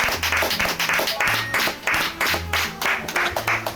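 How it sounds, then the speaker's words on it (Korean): A small group of friends claps together in an uneven, bouncy rhythm, the hand claps close and bright, mixed with music or other sound carrying a repeating low pulse underneath. "박수."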